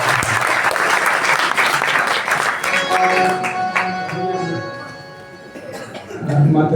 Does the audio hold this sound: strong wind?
no